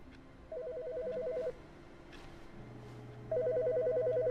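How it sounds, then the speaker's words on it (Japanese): Telephone ringing in The Stanley Parable: Ultra Deluxe, two bursts of rapid electronic trilling separated by a pause, heard clearly over a low steady game hum. "電話が鳴ってる。"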